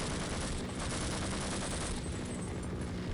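Dense, continuous enemy gunfire in the video game Half-Life, a sustained barrage of rapid overlapping shots at steady loudness with no pauses.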